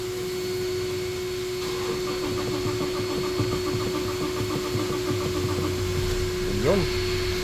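A manual-transmission car engine, freshly serviced with its EGR valve, intake manifold and throttle body cleaned, runs in a steady, even idle with a constant hum, while a person talks over it.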